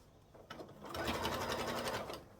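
Sewing machine stitching fabric for a beginner DIY purse, a short close burst of rapid mechanical whirring that speeds up after a soft start and runs steadily for under two seconds.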